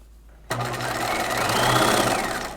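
A domestic sewing machine stitches one side of a keyhole bodice over boning channels, a steady close whirring run that starts abruptly and continues without pause.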